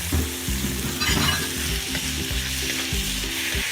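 Ground beef fries in a pan with a loud, steady sizzle and crackle, close and continuous, while a low tonal hum or music runs underneath. No one speaks.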